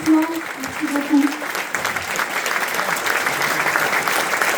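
Applause from the crowd at a La France insoumise municipal campaign meeting in Toulon, opening under a man's brief spoken thanks and then swelling into steady, dense clapping from many hands.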